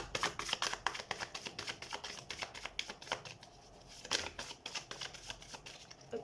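A tarot card deck is shuffled in a steady run of quick riffling, papery flutters, close and fairly soft, with a brief lull near the middle before the shuffling resumes. No one speaks.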